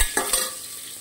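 Four potatoes fry in a pan and are stirred, giving a couple of quick scraping stirs over a bright, steady sizzle, close and without talk.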